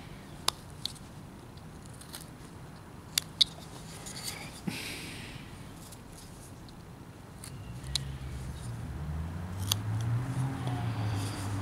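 Knife carving a wooden figure in a quiet room, a series of faint, sharp little cuts and scrapes scattered at irregular intervals.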